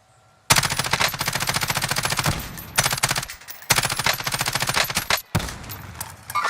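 Rapid automatic gunfire from Warzone, loud sustained bursts of machine gun fire with brief pauses between volleys, no talking.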